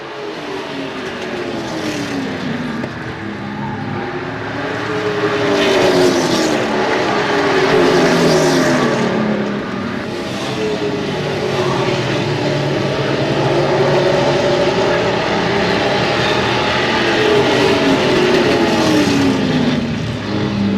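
Race cars of the Coulter Series roar around Desoto Speedway in a continuous loud drone, engines rising and falling in pitch as the pack passes through the turns.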